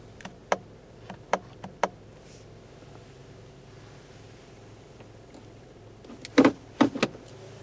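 A 2018 Honda Civic Hatchback's gear shifter is moved between positions, producing a handful of sharp, close plastic clicks and clunks, a few spaced early on and a louder cluster near the end, over a quiet cabin hush.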